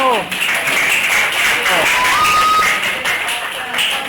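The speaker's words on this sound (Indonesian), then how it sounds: "Kelompok 1 beri tepuk tangan, kelompok 1." Applause for a student group in a classroom, clapping continuous under spoken instructions from a teacher, with a brief whistle-like tone in the middle.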